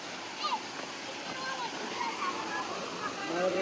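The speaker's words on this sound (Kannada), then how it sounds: "ಅಲ್ಲಿ ಫಾಲ್ಸ್ ನೀರು ಬೀಳ್ತಾ ಇದೆ, ಇಲ್ಲಿ ಚಿಕ್ಕ ಚಿಕ್ಕದಾಗಿ ಪುಟ್ಟ ಪುಟ್ಟ ಹರಿತಾ ಇದೆ ನೋಡಿ" Water at the Guledagudda (Didaga) waterfall near Kotikall village pours and trickles in small streams, a constant soft rushing wash heard at a distance with faint higher chirps over it.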